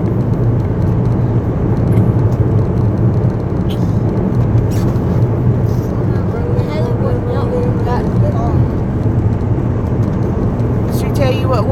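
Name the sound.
car driving on the road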